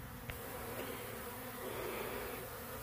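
Honey bee swarm buzzing steadily near a swarm lure, a dense continuous drone with a brief sharp knock early on and no voices.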